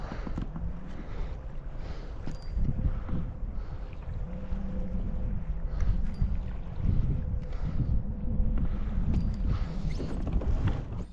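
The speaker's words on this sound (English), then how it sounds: "It's just a constant 13-mile-per-hour wind, no gusts, which is what's creating this chop on this completely flat and open lake." A steady 13 mph wind sweeps across an open, flat lake during a kayak outing, giving a constant broadband rush with low buffeting, and small waves of chop slap against the hull.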